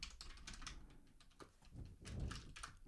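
Quick irregular clatter of keys being typed on a computer keyboard, faint and close, in short bursts with soft thumps between them, no voices.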